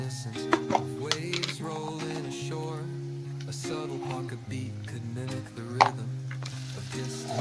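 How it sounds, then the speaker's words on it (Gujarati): Potatoes cook over low gas while being stirred for moraiyo: a soft sizzle runs beneath intermittent scraping and stirring strokes, with a sustained tonal background throughout. "બટેકા ચડે ત્યાં સુધી તેને કૂક કરીશું અને ફેરવીશું ધીમા ગેસે"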